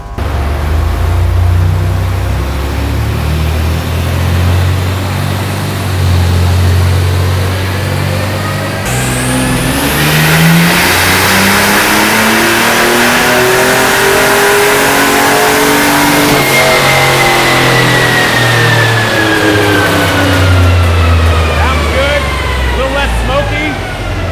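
The turbocharged S10 truck's engine revs hard and loud for over twenty seconds, its pitch climbing steadily and then falling back, with turbo whine and roar throughout, recorded close by.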